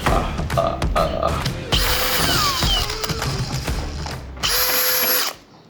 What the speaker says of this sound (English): The drill's just like do-do-do-do.